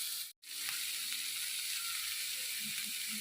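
Carrots and capsicum sautéing in a pan for poha upma, a steady close sizzle with a brief cut-out near the start, then continuing evenly without voices.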